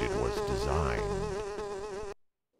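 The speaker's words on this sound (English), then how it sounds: "I can't hear you over the mosquito." Loud, close insect buzz of a mosquito from The Grinch video game, a steady wavering whine for about two seconds that then cuts off abruptly into silence.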